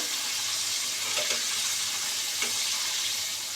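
Chicken frying in a pan on a home kitchen stove gives a steady, close sizzle with no pauses and a couple of faint clinks from stirring.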